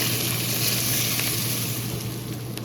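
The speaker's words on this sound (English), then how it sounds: "pour it over the onions, garlic, and spice till it sizzles and releases its flavor" Hot rice bran oil poured over onions, garlic and spice, giving a steady broadband sizzle that stays loud and even throughout, with no voices.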